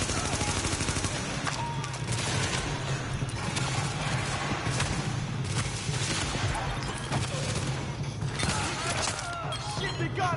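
Gunfire from The Division, with dense, continuous volleys of rapid shots and mechanical clatter running throughout at steady high loudness.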